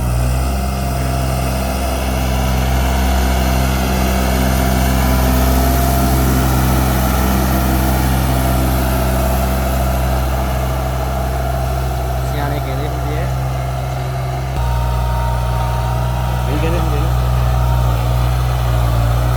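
A loud, steady New Holland 3630 tractor engine drones close by under load, pulling a plough, deep and heavy, with a slight shift in its tone near the end.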